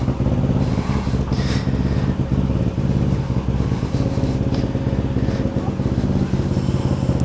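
A warmed-up Harley-Davidson Sportster motorcycle engine idles steadily, a loud, continuous low-pitched rumble with a rapid uneven lumpy pulse and some mechanical clatter, close by and alone.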